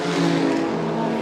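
A BMW M4 race car roars down the back straight toward turn 3, a loud, steady high-revving engine drone held throughout the short stretch.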